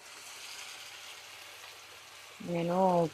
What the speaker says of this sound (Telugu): మనం నానబెట్టుకున్న చేప ముక్కలు కలుపుకొని ఇప్పుడు డీప్ ఫ్రై చేద్దాం వీటిని